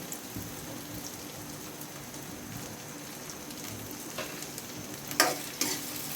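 Chopped onion, garlic and green chilli fry in hot oil for a tempering, giving a steady soft sizzle with a few sharper crackles and spoon taps near the end; no one speaks.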